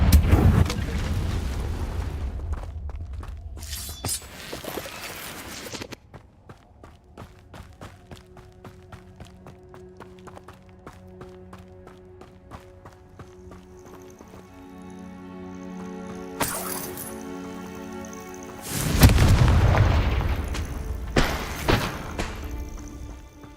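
Confringo fire-spell blasts in the Hogwarts Legacy video game: two loud, broad explosive bursts, one early and one later, separated by quieter in-game ambience and musical tones.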